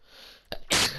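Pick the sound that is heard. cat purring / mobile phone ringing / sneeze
sneeze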